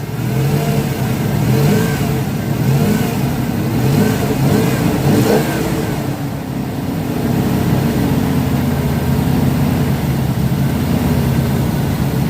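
A car engine running loud and close, revving up and down in several rising surges before settling back toward idle.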